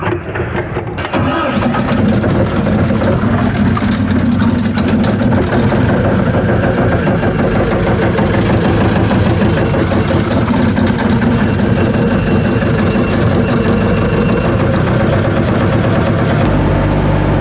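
A heavy tracked machine's engine starts up and settles into a loud, steady rumbling idle that continues throughout.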